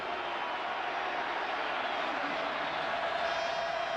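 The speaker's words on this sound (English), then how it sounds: "That's a second crowd noise." A roaring stadium crowd at a 1990 Michigan at Ohio State college football game, a loud sustained wall of cheering and noise that swells slightly toward the end, heard without distinct voices.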